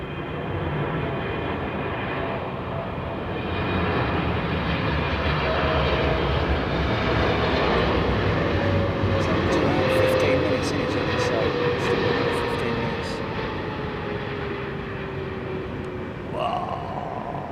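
An Airbus A350 airliner from Phoenix passes at Heathrow, a sustained jet roar swelling and easing with a slowly falling whine, voices talking beneath it.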